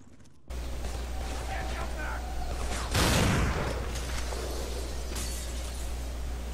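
A 12-gauge shotgun fires in a PlayStation 2 game, one loud blast partway through over a constant hiss of game background noise.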